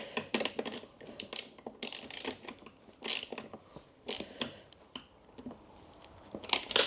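A ratchet with a 14mm extended socket tightens a nut on a Suzuki DRZ400E rear suspension bolt, giving repeated bursts of quick metallic clicking separated by short pauses, close and clear.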